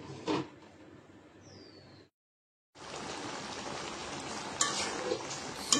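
Beef and potatoes cook in a covered pot on a gas stove, giving a steady, soft bubbling sizzle that cuts out briefly before resuming, close and fairly quiet with no voices.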